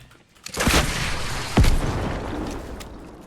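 Rocket launcher fire and explosions in the video game Fortnite: two heavy booming blasts close together, followed by a rumbling decay of debris and noise.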